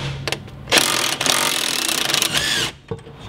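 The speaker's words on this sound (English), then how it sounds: "using my 12 millimeter socket and my impact gun" A cordless impact gun with a 12 mm socket rattles off the nut atop a rear sway bar end link during an upgraded sway bar install, one loud sustained burst of hammering lasting about two seconds, close by and alone.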